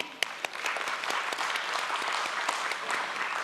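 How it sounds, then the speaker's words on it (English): A crowd at a stock exchange listing ceremony breaks into a huge round of applause, loud, dense clapping sustained throughout with a few sharp individual claps near the start. "let's have a huge round of applause, ladies and gentlemen, once again."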